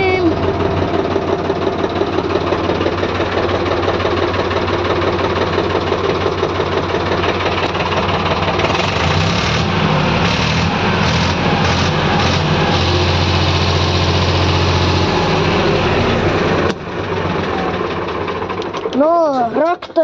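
A tractor engine idles steadily with a low, rhythmic chugging knock that holds for the whole stretch, before a short revving whine near the end.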